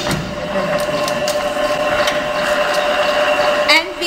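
A workshop power press punches washers out of a metal sheet, piercing and blanking them: repeated sharp mechanical clunks land at a steady pace over a continuous loud machine hum.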